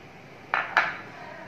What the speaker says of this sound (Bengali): আমি সবগুলো ভালো করে মেখে নিব।